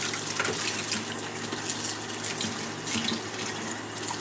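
Tap water runs steadily into a sink during dishwashing, a continuous broadband splash and hiss that stays fairly even throughout with small surges, close by and with no talking over it.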